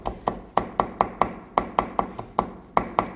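A knife finely julienning vegetables on a cutting board during a Korean cooking class making bean sprout rice: a steady series of crisp, close chopping taps, about three per second, with no talking.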